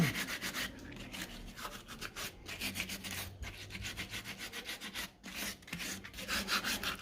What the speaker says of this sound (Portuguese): molhamos a lixa e passamos nas quinas dos pés